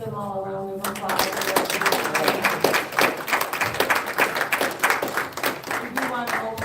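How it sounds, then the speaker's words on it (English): Audience applause at a chiropractic talk, dense clapping starting after a brief pause and continuing loud and steady to the end, with voices mixed in. "Let's give them all a round of applause."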